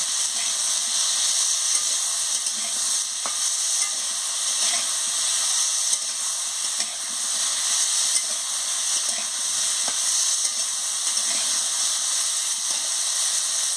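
Vegetables dusted with turmeric powder and salt are stirred in a hot pan, giving a steady, close hiss and sizzle with faint scraping that runs without a break through the whole stretch.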